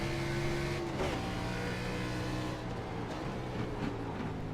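Race car engine in the iRacing simulator, steady broadband drone with sustained tonal whine, small pitch dips around gear changes, heard from the cockpit, continuous and loud with no talk.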